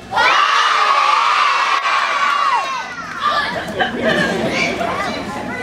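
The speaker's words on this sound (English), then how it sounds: "I want to hear every child in this entire city yell even louder." A large crowd of children yells and cheers loudly at an outdoor ribbon-cutting event in Oakland, with sustained shouting that dips briefly and then rises again into scattered whoops and chatter.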